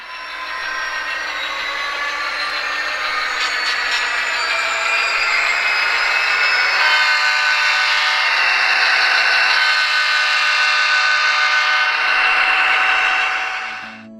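Athearn Genesis GP40-2 HO-scale diesel locomotive model with onboard sound, a sustained prime-mover drone and whine that builds and holds loud for over ten seconds before cutting off abruptly, no voices.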